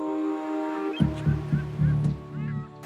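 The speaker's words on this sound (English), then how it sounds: "It's kind of nice to hear the seagulls" Loud honking bird calls, several harsh cries in a row close by, set on a wild riverside trail where gulls are calling.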